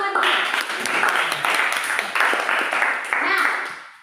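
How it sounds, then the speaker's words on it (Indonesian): A classroom group claps in several uneven bursts, lively and close, then trails off toward the end. "Tepuk tangan untuk semuanya."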